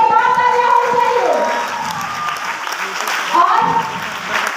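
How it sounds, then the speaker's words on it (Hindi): A crowd applauds an honored senior woman at a community gathering, steady clapping with cheering voices and a shout rising over it, growing louder again near the end. "तो हम चाहेंगे एक बार दीदी के लिए जोरदार तालियां होनी चाहिए।"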